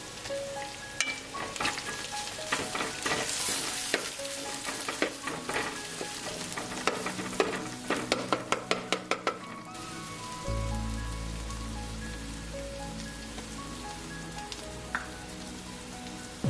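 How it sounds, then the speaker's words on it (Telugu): Onions fry in a pan with ginger garlic paste for chicken biryani, giving a soft crackling sizzle broken by a quick run of sharp scraping taps, then a low, steady frying hiss that carries on to the end. "వేసి జస్ట్ 1 నిమిషం ఫ్రై చేసి అల్లం వెల్లుల్లి పేస్ట్ వేసేయాలి"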